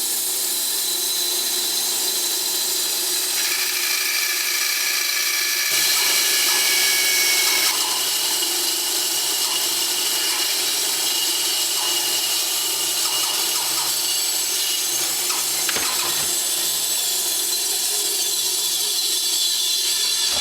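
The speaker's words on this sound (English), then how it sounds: "I'm going to cut 4 at once on my bandsaw." A bandsaw cuts freehand through four cutting boards clamped together, a steady, loud, continuous whine and rasp of blade on wood lasting throughout with no talking.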